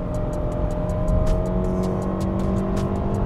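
Sustained engine drone from inside a Mitsubishi Outlander SUV under full throttle in Tarmac mode, rising slightly toward 100 km/h, accompanied by a regular ticking pulse throughout.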